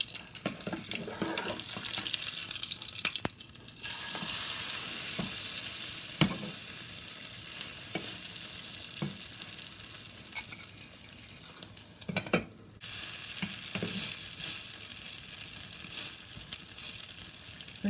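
A pod bean vegetable pancake fries in a pan over high heat, producing a steady, loud sizzling hiss with occasional clicks and stirring knocks.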